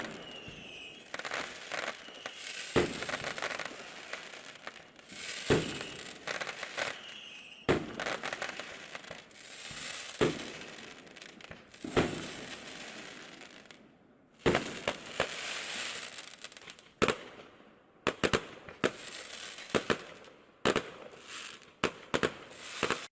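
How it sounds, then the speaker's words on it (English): Holiday fireworks going off in a long irregular series of sharp pops and bangs, some close and loud, others fainter, with crackling bursts and scattered debris-like rattles between them. "So fireworks sounds can be really tough for pets."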